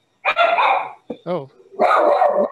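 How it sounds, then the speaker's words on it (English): A dog barks nearby, giving a loud bark, a short yip and then another sustained bark, with a brief spoken exclamation between them. "That's my dog."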